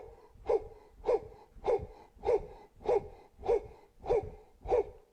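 A rhythmic Cellercise breathing technique, with eight sharp, forceful breaths at an even pace of about one every 0.6 seconds, close and loud with no talking.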